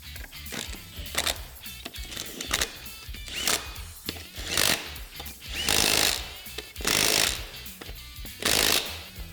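Front axle hardware on a Polaris RZR Pro R being fully tightened with a power tool, loud rattling impact bursts repeating in several strong pulses with brief pauses between, close and harsh.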